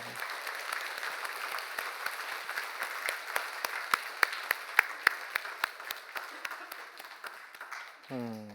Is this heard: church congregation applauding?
yes